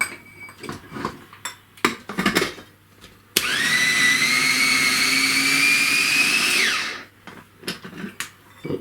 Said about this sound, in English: this is the half onion. It's gone in the chopper.